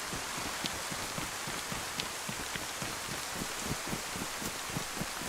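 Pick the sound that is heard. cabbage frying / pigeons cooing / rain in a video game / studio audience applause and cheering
rain in a video game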